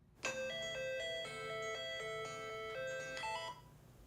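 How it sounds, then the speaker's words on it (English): An alarm goes off on the UnBed phone app, a bright electronic chime melody of stepped ringing tones that plays clearly for about three seconds, with no talking. "when your alarm goes off, it will not stop until you get up and scan this with your phone"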